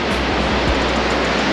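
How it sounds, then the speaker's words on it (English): Roaring waterfall heard up close, a dense, steady broadband rush of falling water that fills the whole clip at high level with no pauses. "we're like face to face with the waterfall"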